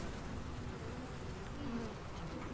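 A dense, steady hum of many honeybees buzzing continuously around hives in a city, a soft swarming drone with no voices, filling the whole moment at moderate volume.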